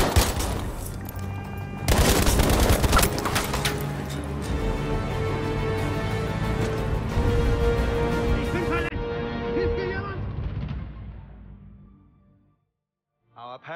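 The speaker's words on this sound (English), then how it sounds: "Explosions." Heavy booming blasts and rapid gunfire crackle in a dense, loud barrage in Battlefield V, with voices mixed in, before fading to near silence at the end.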